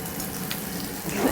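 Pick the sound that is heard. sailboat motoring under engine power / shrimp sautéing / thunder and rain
shrimp sautéing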